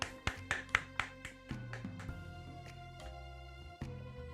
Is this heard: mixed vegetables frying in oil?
no